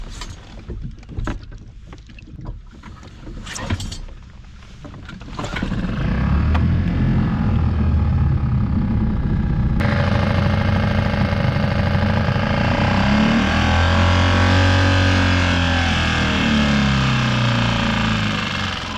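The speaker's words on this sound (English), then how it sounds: "Good old trusty Mercury, 6 horsepower." Mercury 6 horsepower outboard motor running on a small fishing skiff in Morro Bay harbor, a loud, steady close drone that begins about five seconds in and continues with wind and water noise.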